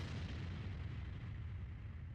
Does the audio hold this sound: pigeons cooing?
no